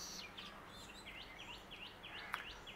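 Weaver birds calling from a spot near a balcony, a steady run of repeated high chirps and twittering notes over a low background hum, moderately distant and fairly faint, with one sharper call near the end.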